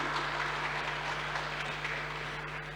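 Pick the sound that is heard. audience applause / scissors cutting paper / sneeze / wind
audience applause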